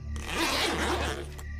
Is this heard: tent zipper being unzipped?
yes